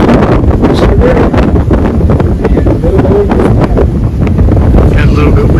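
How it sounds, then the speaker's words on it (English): Heavy wind buffets the microphone with rough, continuous low rumble and gusty thumps, loud and close throughout. "Got a little bit windy there, eh?"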